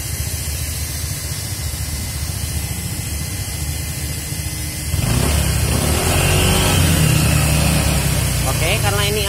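An engine hums steadily at first, then is revved up and held at higher speed. Voices talk over it throughout.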